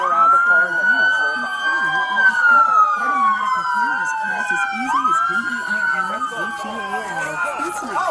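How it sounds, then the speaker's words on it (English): Several emergency vehicle sirens wail at a police traffic stop in Baltimore, overlapping rising and falling tones held steadily throughout, fairly close and loud. "Those sirens are the vehicles that are there, not vehicles that are showing up."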